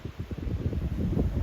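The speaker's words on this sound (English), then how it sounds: "The weather's a bit windy, you can probably hear that on the camera." Low, gusty wind buffets the microphone steadily with a soft rumbling flutter, faint and continuous, with no voices.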